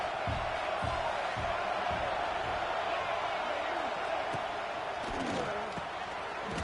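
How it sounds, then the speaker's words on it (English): Stadium crowd roaring steadily in College Football 26 ahead of a huge fourth-down play, a dense, constant wash of cheering with scattered whoops and thumps, fairly loud and continuous with no talk over it. "This crowd bringing serious noise on this huge 4th down play"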